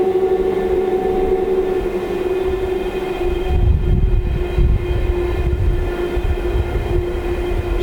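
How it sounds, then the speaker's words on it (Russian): A long ore freight train on the Ofoten Line rumbles past nearby at the Norddal bridge, with steady low rolling noise, a sustained droning hum and rhythmic clatter of wagons over the rails. "Идет еще один рудовоз."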